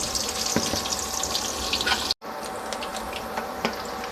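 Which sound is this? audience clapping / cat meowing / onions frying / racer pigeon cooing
onions frying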